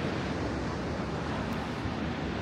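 Sea waves surge continuously at the coast in Gangneung, South Korea, a broad rushing roar mixed with wind noise buffeting the microphone, with no distinct breaks between swells.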